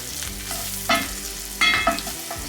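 Flour cooking in a hot pan for a roux sizzles steadily, with two louder stirring scrapes against the pan, close and clear, with no speech.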